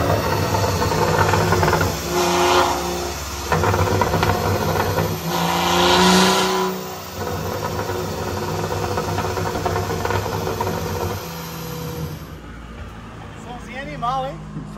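A tuned BMW 335i, Stage 2 Plus with upgrades and a remap, revs hard in surging bursts with hissy, echoing roar, then settles to a quieter rumble near the end, with people talking around it.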